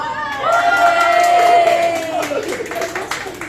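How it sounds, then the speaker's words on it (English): Dinner guests at a family gathering in Cali, Colombia cheer and whoop loudly, with a sustained vocal cry over scattered clapping and crowd noise that tapers into lighter applause and chatter. "So if you can please give a big round of applause for..."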